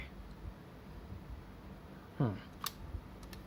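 A crisp mechanical shutter click from a Yashica Electro 35 GSN film camera, quiet against faint room hiss, followed shortly by a softer second click.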